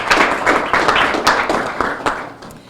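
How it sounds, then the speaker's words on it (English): An audience at a Camden community benefit agreement press event claps in a sustained round of applause, with dense, fairly loud hand claps rising and fading over a few seconds. "Please join me in giving them a round of applause."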